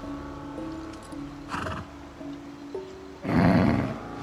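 A horse whinnies and snorts in the video game Far Cry 6, short nasal bursts followed by a loud, close drawn-out neigh near the end, set against a faint tonal game backdrop.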